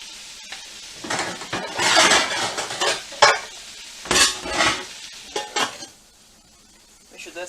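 Food frying in a pan on a high burner during a keto soul food dinner, sizzling loudly in bursts, with a utensil stirring and scraping and pots clinking close by.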